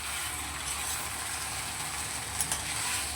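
Prawns tossed into frying taro leaves, a dense, continuous close sizzle with faint stirring scrapes and a couple of small clinks near the end, no talking.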